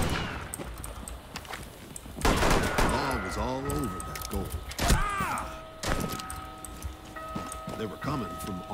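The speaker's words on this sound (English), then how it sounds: "Gunshots rang." Rapid bursts of gunfire crack out in clusters in Rainbow Six Siege, with video-game sound effects and excited voices talking over the shooting.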